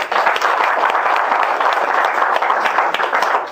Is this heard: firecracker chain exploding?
no